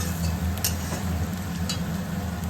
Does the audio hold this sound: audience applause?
no